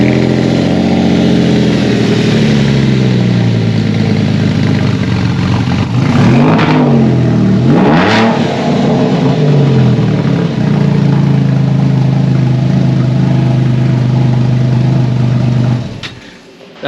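Porsche 911 with its muffler deleted, engine idling loud and close with a harsh low drone, rising into two sharp revving sweeps before settling back to idle and cutting off at the end.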